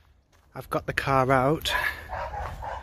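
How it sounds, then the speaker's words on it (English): A dog barks in a quick burst of yaps and a wavering whine close by, while someone talks over it. "excuse the dog's barking"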